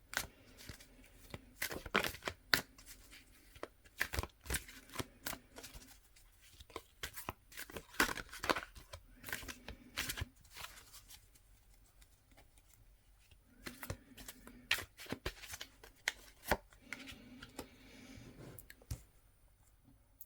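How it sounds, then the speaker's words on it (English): Repeated crisp riffling and clicking bursts of tarot cards being shuffled, coming in quick clusters with short quiet pauses between, close and fairly soft. "So I'm going to do a shuffle"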